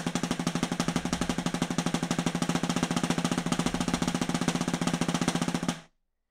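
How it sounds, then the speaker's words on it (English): A drum double stroke roll played at top speed, a dense, rapid machine-gun-like stream of evenly spaced stick strokes, loud and close, running steadily for nearly six seconds before stopping abruptly. "this kind of machine gun sounding roll when"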